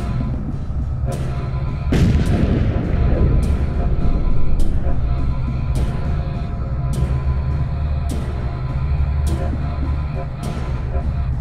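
Heavy gunfire in a video game battle: sharp, loud shots crack at irregular intervals, one big boom near the start, all over a constant low rumbling hum of the battlefield.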